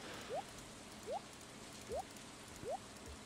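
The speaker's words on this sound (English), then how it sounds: "Hey, look, it's raining." Soft, even rain hiss fills a scene in the farming game Stardew Valley, quiet and continuous, with four short rising chirps popping up at regular intervals on top.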